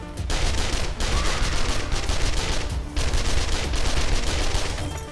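Rapid, sustained automatic gunfire from the zombie survival game 7 Days to Die, loud and dense with only brief gaps, fired steadily at a horde near a slide base.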